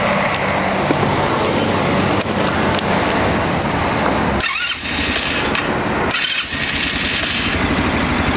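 An Avantis 150 quad bike's engine is started indoors in a showroom, with starter cranking and a rough idling rattle, loud and close, with brief dips as the engine stumbles or is blipped.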